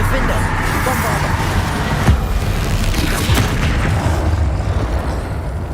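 Bombarda spell blasts in Hogwarts Legacy, a dense, loud barrage of booms and rumbling impacts layered over continuous game combat noise, with a voice calling out spells throughout.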